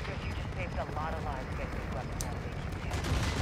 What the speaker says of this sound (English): Shooting all my bullets.